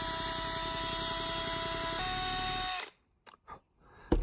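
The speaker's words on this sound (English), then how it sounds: "you can actually take your drill bit and put it in the hole" Power drill with its bit spinning in a drilled hole in wood, a steady high whine that shifts pitch once, then cuts off abruptly, followed by a few faint knocks and near silence.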